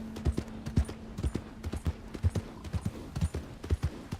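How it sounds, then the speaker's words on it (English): A horse's hooves clip-clop in a steady, rhythmic trot-like gait in the video game Red Dead Redemption 2, with close, evenly spaced thuds repeating about three times per second. "is this a gallop or a trot?"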